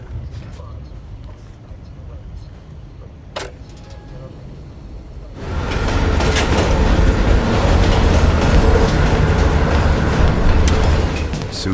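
A moving train in the game Call of Duty Cold War gives a low rumbling drone that swells to a loud, dense roar of wheels and rattling carriages partway through, steady until the end.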